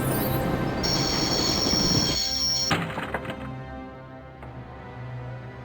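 A train in the video game Broken Sword: The Shadow of the Templars rumbles loudly with a sustained high wheel squeal. A sharp clunk cuts the squeal, followed by a few metallic thunks and a fading rumble.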